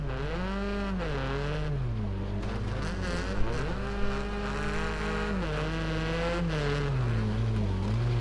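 A race car lapping Hockenheim, its engine whining and shifting pitch steadily as it accelerates and brakes through corners, loud and sustained with a couple of faint clicks, no voices.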